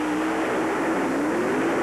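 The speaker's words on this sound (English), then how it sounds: "It's powered by a Ford small block with a supercharger and fuel injector system" A supercharged Ford small-block funny car engine roars at a hydroplane race, a loud, steady, close drone whose pitch climbs slowly as it runs, with no voices over it.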